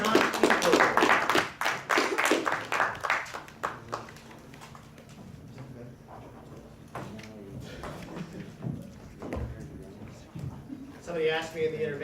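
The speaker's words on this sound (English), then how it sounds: "give a round of applause, shake your opponent's hand" Audience clapping after a student debate in a communications class, a burst of many hands at the start that thins into scattered claps and fades under people talking.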